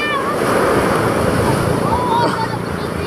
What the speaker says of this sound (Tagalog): Tama master, lakas talaga ng alon.